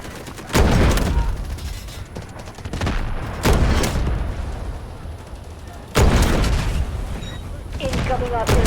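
Coastal artillery in the shooter game Delta Force: Hawk Ops fires three heavy booming blasts about two to three seconds apart, each with a long rumbling tail, loud and close, mixed with distant gunfire.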